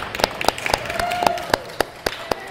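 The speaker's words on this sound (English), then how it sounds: "How about another big round of applause for Pat for making it so great up here for us?" Scattered audience clapping in a piano bar lounge, a handful of sharp, separate claps spread across the moment rather than a full ovation, with faint background murmur.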